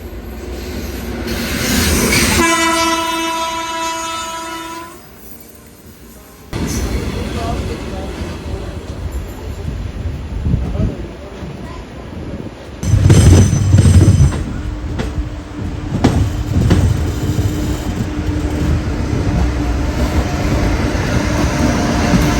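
Train on the Ernakulam–Thrissur line in Kerala, with a loud horn blast at the start, then a brief lull and a close, rumbling pass full of rail clatter and wheel noise that continues to the end.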